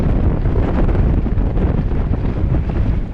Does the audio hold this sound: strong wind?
yes